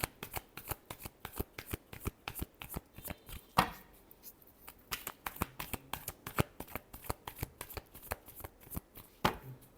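Tarot cards are shuffled by hand in a quick, close series of crisp riffling and slapping bursts, one after another, quiet and alone with no voice over them.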